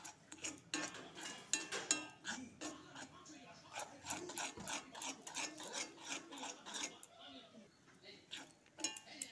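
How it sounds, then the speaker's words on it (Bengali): Chickpea flour mixture for besan laddu being stirred into sugar syrup, with a rapid run of close scraping and rasping strokes against the pan that keeps going throughout. "চিনি শিরার সাথে ভালো করে নাড়াচাড়া করব"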